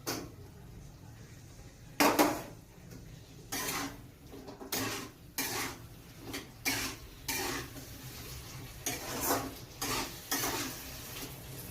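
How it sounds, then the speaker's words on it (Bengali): Potatoes go into a pan and are stirred, heard as a series of clattering metal scrapes and knocks in an irregular rhythm over a faint sizzle, close by. "আর এবার আমি আলুগুলো দিয়ে দিচ্ছি।"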